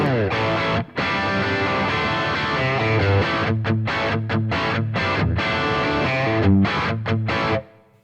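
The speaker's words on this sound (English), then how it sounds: "I've got this Brit stack, which sounds like this." Distorted electric guitar chugs through a crunchy British stack amp model, JCM 800 style, on a BOSS GT-1000, loud and up close, with rhythmic stops between chords before ringing out at the end.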